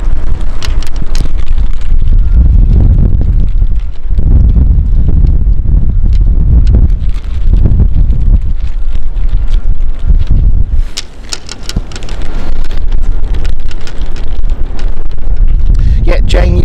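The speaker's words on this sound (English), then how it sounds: "it is a pretty windy day here on the docks" Strong wind buffets the microphone on open city docks beside the water, a loud, continuous low roar with gusty surges and brief lulls, no voices.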